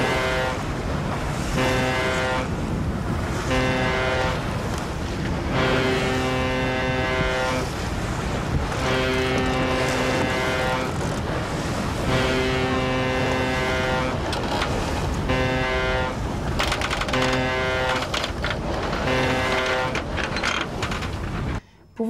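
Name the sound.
foghorn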